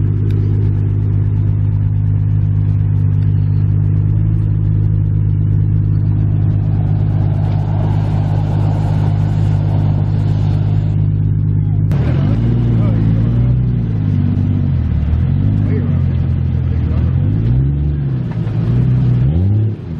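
A Jeep stuck off-road idles with a deep steady drone, then revs hard in rising and falling surges as the tires spin, with a voice audible over the engine.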